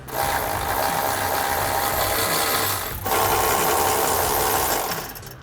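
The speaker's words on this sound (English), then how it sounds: "So now we can take a 15mm socket on a ratchet to get our 2 nuts off." A 15mm socket on a ratchet turns the exhaust hanger nuts on a 2016-2024 Camaro 6.2L axle-back exhaust, a fast, continuous close ratcheting buzz with a brief pause midway, with no talking.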